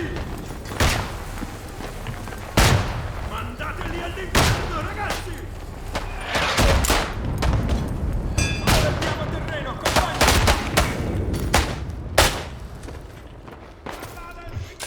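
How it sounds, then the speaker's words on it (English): Gunfire from the World War I shooter Isonzo on the Monte Cengio map, with sharp loud shots at irregular intervals standing out over a busy battlefield bed, near and distant blasts mixed in and talk throughout. "That was a warning shot, by the way."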